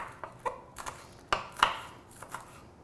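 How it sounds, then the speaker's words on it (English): Green onions being chopped with a knife on a board in a home kitchen, a handful of sharp irregular taps at close range with quiet gaps between them, no talking. "I'm chopping green onions."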